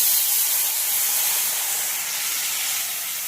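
Water hits hot spices in a pan, black cumin seeds with cumin, coriander and red chilli powders, setting off a loud, steady hiss of steam and sizzle that fades slightly over a few seconds, with no voices.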